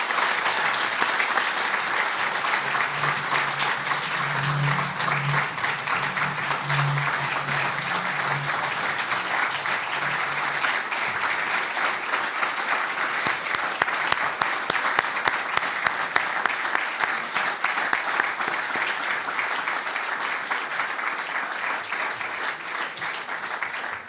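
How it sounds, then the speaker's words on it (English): A large audience at a scholarship awards ceremony applauds the scholars with sustained, dense clapping that holds steady for about twenty-four seconds, with a faint low tone sounding underneath early on. "may you have a round of applause for the extraordinary scholars in here tonight"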